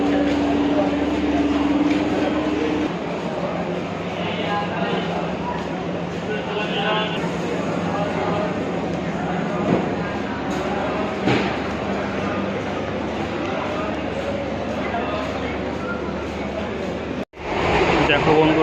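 Steady rumble and rattle of a moving Bangaon local train carriage, continuous for the whole stretch, with a sudden clunk near the end.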